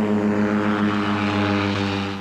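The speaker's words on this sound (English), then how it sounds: "a pair of wings with a high-mounted motorcycle engine driving a propeller" A microlight plane with a pair of wings and a high-mounted motorcycle engine driving a propeller takes off, its droning engine buzz loud and steady throughout.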